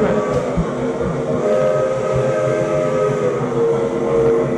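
A life-size train station reproduction in a Victoria, Vancouver Island museum fills the space with a steady rumbling rail ambience and low mechanical drone, continuous and moderately loud.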